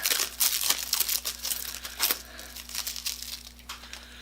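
A 48 inch strip being unwrapped from its packaging: close, crisp crinkling and tearing of plastic wrap in quick irregular bursts, loud at first and fading to softer rustles, over a faint steady hum.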